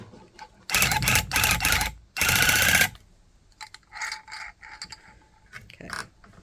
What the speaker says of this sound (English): I shouldn't be tufting that close to the edge, but I am.